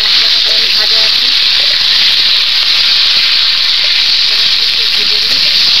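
Potatoes and tomato fry in a pan with a loud, close, continuous sizzling hiss that holds steady throughout, with only faint background clatter.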